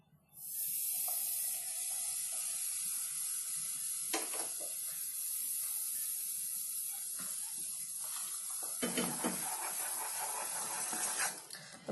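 Oil poured into a hot chocolate Mysore pak mixture made with cocoa, a steady bright sizzling hiss lasting throughout with a few sharper crackles.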